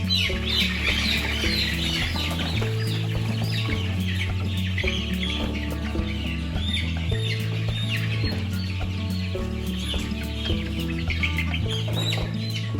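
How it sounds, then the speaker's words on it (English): Chickens cluck and chirp continuously and close by as chicks are gathered into a moving bin, a busy overlapping chorus with no speech. "we are going to use our chicken moving bin and we'll start gathering chicks"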